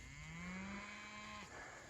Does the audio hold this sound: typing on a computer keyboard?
no